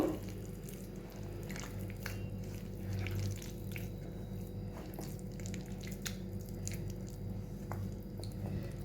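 Soft, wet squishing as palm fruit dough with flour is kneaded by hand for taler bora, a steady close squelching with faint drips and no talking.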